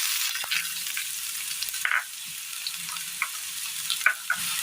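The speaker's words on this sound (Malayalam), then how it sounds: "ഇനി ഇതിലേക്ക് നമുക്ക് കടുക് പൊട്ടി തീർന്നിട്ടുണ്ട്. ഇനി ഇതിലേക്ക് സവോള ഇട്ട് കൊടുക്കാം." Onions frying in hot oil with spluttered mustard seeds, a steady bright sizzle with scattered pops and occasional utensil scrapes, close and fairly loud.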